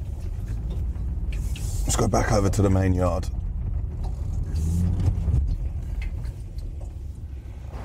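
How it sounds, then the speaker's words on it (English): Lorry engines running at a yard before dawn during morning vehicle checks, a steady low rumble beneath someone talking nearby. "The boys are just doing their checks on the lorries."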